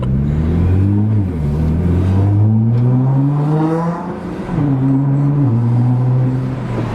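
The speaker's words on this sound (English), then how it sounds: "The noises this car makes, dude." A Nissan GT-R engine revs while being driven, its droning pitch climbing through the gears with a shift dip and a fresh rise, loud and steady from inside the car with no talk.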